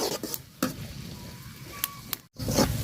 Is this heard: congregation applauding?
no